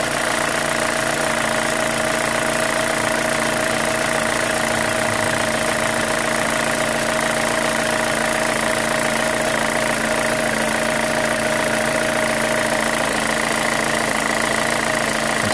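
A 2005 Chevy Cobalt with a 2.2L engine idles close by with a steady, loud drone and a faint rapid ticking that could be a lifter, running evenly with no talking.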